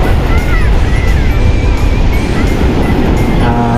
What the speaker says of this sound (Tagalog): sobrang lakas po ng alon ngayon